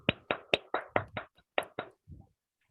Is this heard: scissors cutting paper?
no